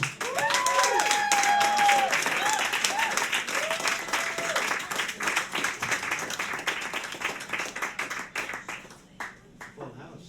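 An audience claps for a poet at a live show, with a dense burst of applause that gradually breaks into scattered individual claps, and voices and whoops rising over it early on.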